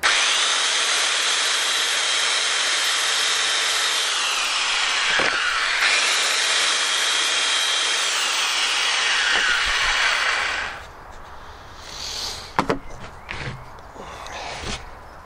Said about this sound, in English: Going to give this a tiny tickle with my belt sander